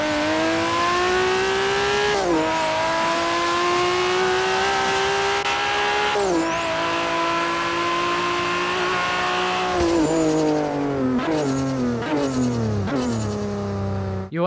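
A car engine in Forza Horizon 3 revving hard and raspy through rising gear pulls, with quick shifts and falling pitch at each change, then a burst of rapid downshifts near the end, loud and alone.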